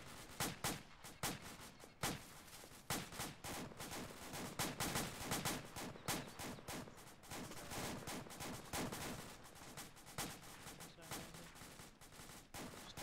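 Sustained gunfire from a perimeter, dense overlapping shots and machine-gun bursts rattling continuously without pause, fairly distant and muffled, with voices faintly underneath.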